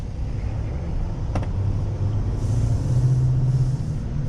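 A 2024 GMC Sierra 2500HD AT4X AEV pickup drives along with a steady low engine rumble heard from inside the cab, and a single brief tick partway through.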